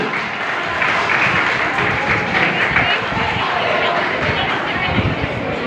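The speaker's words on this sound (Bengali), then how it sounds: "আমরা সকলে হাততালি দিয়ে তাদের উদ্দীপনা সৃষ্টি করি।" A school anti-corruption debate competition audience in Kishoreganj claps steadily, a dense, continuous wash of applause filling the hall for several seconds with crowd noise mixed in.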